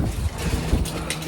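Wind buffets the microphone in a steady low rumble, loud and close, with no voices.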